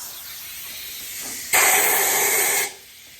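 Compressed air blasts into an engine intake's coolant passage, a loud steady hiss that jumps up sharply, holds for about a second, then cuts off, with a quieter hiss before and after.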